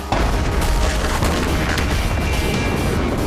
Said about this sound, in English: that is an explosion in water